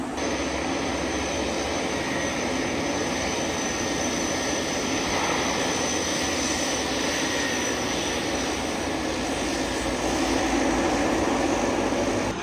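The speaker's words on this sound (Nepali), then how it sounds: "ल गाइज प्लेन उड्न रेडी हुँदैछ है।" An airplane engine runs at Jomsom airport, Nepal, ahead of takeoff, a loud, continuous roar with a steady high whine that stays constant and close throughout, with no talk.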